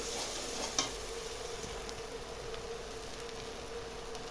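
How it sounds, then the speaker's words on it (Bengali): Potato chunks coated with turmeric sautéing in a pan for aloo dum, a soft, steady sizzle with faint scraping from stirring and one small clink near the start, with no talk. "এখন এগুলোকে কষায় নিতে হবে খুবই ভালো মতো করে"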